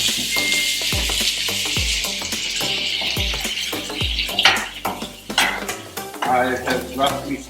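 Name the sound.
sautéing onions and tomatoes in a pan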